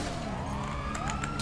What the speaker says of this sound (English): Ooh, police cars.